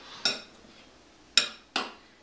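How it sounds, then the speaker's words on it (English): Pico de gallo being stirred with salt and pepper in a bowl: three sharp clinks of a utensil against the bowl, close by, separated by quiet gaps. "So I've got my salt, I've got my pepper, I keep mixing it."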